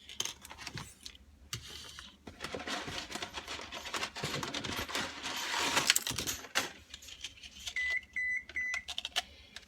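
A home oven's preheat alert sounds as a short run of thin electronic beeps late on, over faint kitchen clatter while lasagna is assembled with broken noodle pieces.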